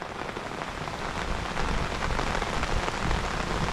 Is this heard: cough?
no